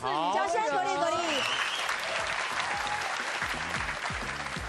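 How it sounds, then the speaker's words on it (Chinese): Audience applause breaks out after a song on a comedy variety show, a loud sustained patter of clapping that begins under a singing voice trailing off, with music continuing beneath the crowd. "掌声鼓励鼓励"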